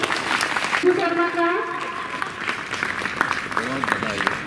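Applause and crowd noise fill the background while a voice speaks over it, with a brief tonal sound early on.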